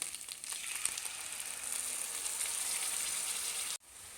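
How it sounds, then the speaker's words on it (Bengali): Ginger paste and ground spices fry in a pan, giving a steady close sizzle that builds and holds, then drops off abruptly near the end. "দেখো আদাটা একটু ভেজে নিলাম যতক্ষণ না পর্যন্ত আদার কাঁচা গন্ধটা চলে যায়।"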